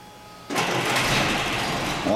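A 1937 Rolls-Royce engine catches on the key after a brief quiet moment, then settles straight into a smooth, fairly quiet steady run close by.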